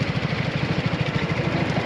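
A motorcycle engine idles close by at the start of a leisure ride, a steady rapid low throb pulsing evenly with no talk.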